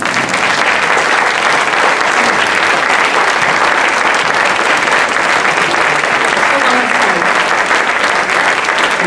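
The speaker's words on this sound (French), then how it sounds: "ça vaut un tonnerre d'applaudissements" Thunderous applause from a packed audience at an opening-night event, honoring volunteers; dense, steady clapping fills the room at full volume for the whole stretch without a break.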